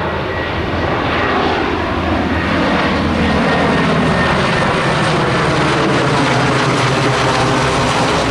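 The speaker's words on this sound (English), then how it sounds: "Now a Coast Guard C-130." A Coast Guard C-130 propeller aircraft flying overhead, a loud continuous engine drone that fills the whole stretch without pause.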